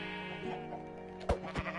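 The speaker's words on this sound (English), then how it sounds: "Why is there a sheep?" A Minecraft sheep bleats in a video game, two short, sharp bleats close together near the end over a steady tonal background hum.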